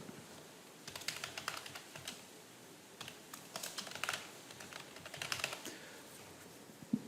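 Computer keyboard typing, entering text into an accounting software form: a quiet, irregular run of soft key clicks and taps in small flurries, with no voices.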